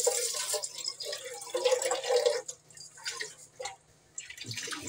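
The pot of a new rice cooker rinsed under a running tap in a small home kitchen: close, steady running water with splashes and drips that shift as the pot is turned.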